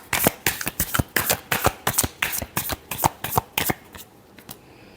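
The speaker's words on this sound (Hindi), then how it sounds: "Last shuffle." Tarot cards shuffled by hand in a steady run of about a dozen crisp riffling bursts, close and clear, slowing to a few softer flicks at the end.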